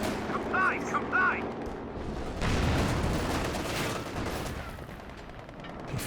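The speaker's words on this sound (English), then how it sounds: "Panzer 4 back there getting blasted by the freshly built mortar pit now" In the Company of Heroes 2 video game, mortar blasts and gunfire come as muffled booms and rattling bursts, heaviest midway, with short game voice lines and battle noise around them.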